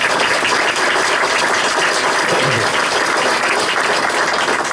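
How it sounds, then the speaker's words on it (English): A large audience applauds at length, a dense, steady wash of clapping that stays loud and even from start to finish. "I'll give that another round of applause."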